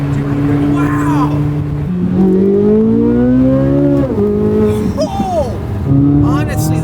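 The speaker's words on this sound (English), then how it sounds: "the noises it's making at all times, downshifting" A Chevrolet C8 Corvette Z06 engine revs loudly and climbs through the rev range, then drops pitch in quick downshifts with sharp blips, heard close up from inside the car on the road.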